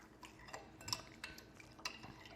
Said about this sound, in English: and then from there, I actually stir it up.